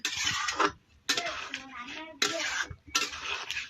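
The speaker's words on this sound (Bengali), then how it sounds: "গরম মশলা দেওয়া হয়ে গেল, এবার নাড়বো" Curry seasoned with garam masala is stirred in a pot, with bursts of spoon scraping and clattering against the metal in four separate rounds, broken by short pauses.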